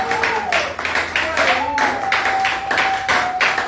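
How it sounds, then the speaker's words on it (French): A church congregation applauding and clapping loudly and steadily throughout, with a sustained tone and voices mixed into the dense, continuous clapping. "Acclamons très très fort. Acclame encore très très très fort."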